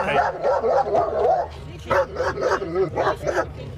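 A police dog barks repeatedly at close range, a rapid series of sharp, loud barks coming in short bursts.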